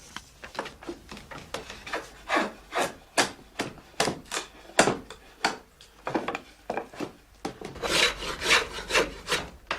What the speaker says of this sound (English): He finishes the rough dressing of the staves on the mare.